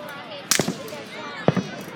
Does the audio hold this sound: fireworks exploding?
yes